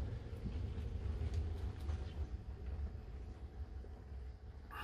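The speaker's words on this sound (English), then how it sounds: "See, now here the wind's picking up, you hear it?" Wind gusts and roars around a boat lying at anchor off a lee shore during a gale in Southeast Alaska, a continuous low rumbling wash that swells and eases without a break, with no voices.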